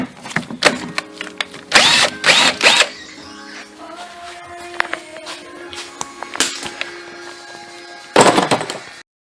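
A power tool backs out the tight 10 mm bolt on the wheel speed sensor of a Camry during transmission removal, in several short, loud whirring bursts separated by quieter clanks and handling noise.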